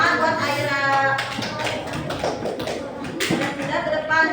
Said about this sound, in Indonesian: tepuk tangan buat Aira.